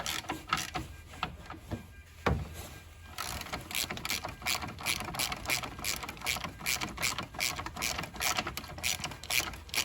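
A ratchet on a long extension loosens a 10 mm battery hold-down bolt in a Jeep Cherokee engine bay, giving rapid repeated clicking strokes in steady bursts, close and fairly loud, with a brief clunk early on.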